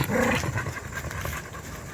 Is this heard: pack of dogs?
yes